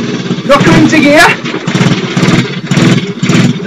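A motorcycle engine revs loudly in a shed with no clutch engaged and the bike out of gear, a rough, surging roar that rises and dips repeatedly, very close, with a voice speaking over it.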